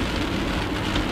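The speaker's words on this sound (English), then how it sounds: "fitting that it's a weird rainstorm" Steady rain drumming on a car during a drive in a sudden rainstorm, a dense continuous patter with low road rumble underneath and no voices.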